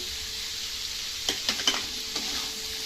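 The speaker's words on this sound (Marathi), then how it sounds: "आता आपल्याला हे 2 ते 3 मिनिटं याला परतून घ्यायचं आहे।" Chana sautéing in a pan for chana chaat, a soft steady sizzle with a few spoon scrapes and taps against the pan, fairly quiet with no talk.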